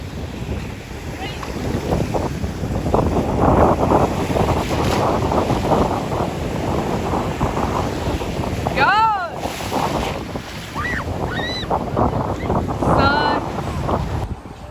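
Wind buffets the microphone on a stormy ocean beach during pouring rain, with crashing surf as a constant loud roar and people's voices and shouts breaking through now and then.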